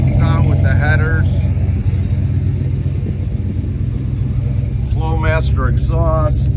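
A 1955 Chevrolet Bel Air with a 383 engine, headers, Flowmaster exhaust and a 700R overdrive transmission rumbles at a steady, deep idle, with someone talking over it at the start and again near the end.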